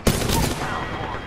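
Gunfire in the video game Apex Legends: a sharp burst of shots at the start followed by a decaying rumble and reverberant tail, loud and close within a short fragment.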